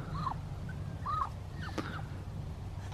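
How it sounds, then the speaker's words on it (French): A pet female duck outdoors on a sunny day gives a few short, nasal calls about a second apart, close by over a low steady background hum. "Allez, fais tes choses de canard."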